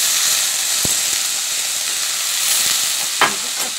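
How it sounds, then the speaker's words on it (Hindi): Taro leaves frying in a pan with tomato sauce and chili powder, a steady close sizzle with a few sharp spoon scrapes and knocks as they are stirred, no voices. "अच्छे से भून लेते हैं, अच्छे से मिक्स करते हैं।"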